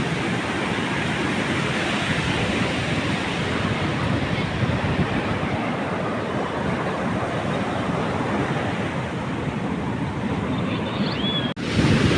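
Sea waves wash onto a beach shore in a continuous loud roar of surf mixed with wind buffeting the microphone, steady and close for the whole stretch, with no one speaking.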